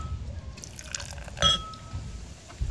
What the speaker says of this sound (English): let's pour this beer up and see what we're talking about here. Just kind of give it a little pour.